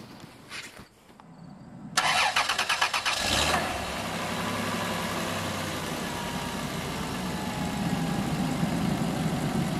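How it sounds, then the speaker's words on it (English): A Chrysler car engine cranks briefly and starts, then settles into a steady, close idle that runs on alone after the initial rattle of cranking. "now he's going to start his car and see if it runs or if it explodes."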